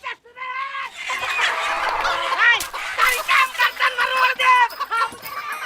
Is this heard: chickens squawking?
yes